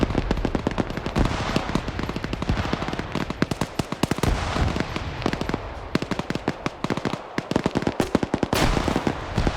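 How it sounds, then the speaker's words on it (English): Dense, rapid automatic gunfire in a military video game firefight, sustained bursts of sharp near and distant shots overlapping almost continuously, loud throughout. "I can't tell if they're firing back or firing up that hill"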